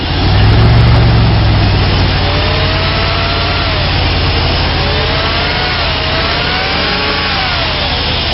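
A 2000 Dodge Durango with a 4.7 liter engine and automatic transmission runs close and loud, a steady rumble with a slight rev rising near the start, then holding even.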